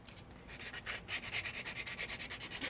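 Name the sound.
scuffing the bottom of a car side skirt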